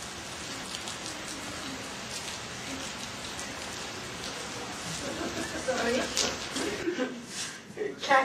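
Steady rain falls on an opening night outside a theatre guild venue, a continuous hiss with louder patter and bursts toward the end, while voices talk over it.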